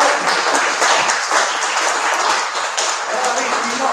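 Sustained, dense audience applause fills a lecture hall after a conference talk on the 450th anniversary of the Pastiss, with voices mixed in under the clapping throughout.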